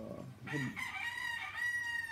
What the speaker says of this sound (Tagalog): yan, may manok dito guys.